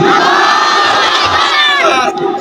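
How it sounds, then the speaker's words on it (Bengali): Large crowd at a religious gathering roaring a loud takbir response in unison, a dense sustained mass of shouting voices that tails off at the end. "তাহলে আমি তাকবীর দিব, সবাই একসাথে উত্তর দিবেন"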